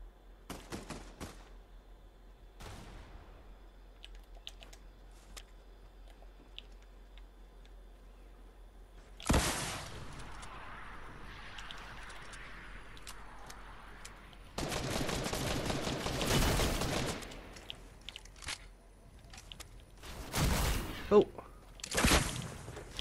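Fortnite gunfire comes in sporadic sharp shots and louder bursts, alternating with quiet stretches, with talk heard in between.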